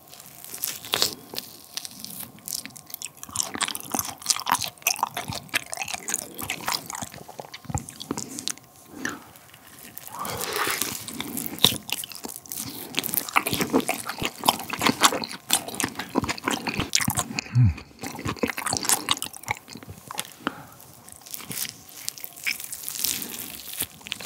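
Raw 1++ Korean hanwoo beef, flank and striploin, being bitten and chewed up close: wet, squishy tearing and mashing with continuous smacking mastication, no talking.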